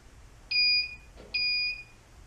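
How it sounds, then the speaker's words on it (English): A metal detector held against the back of an animal with metal lodged inside emits two short, clear electronic tones in quick succession, faint against quiet surroundings. "let's see what happens when you put a metal detector against someone's back that has metal in his back."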